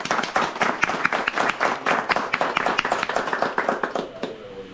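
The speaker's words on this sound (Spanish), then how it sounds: "Un aplauso." A small crowd claps at a community handover of a first aid kit and stretcher in a mountain area. The claps are quick and distinct, fairly close, and grow sparser and softer as they fade out at the end.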